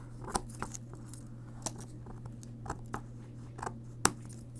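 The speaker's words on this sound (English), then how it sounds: "So I'm going to resort to using my scissors." Scissors cut through paper on a paper-craft book box: a series of short, soft snips and crinkles at uneven intervals over a low steady hum, close and quiet, with no talking.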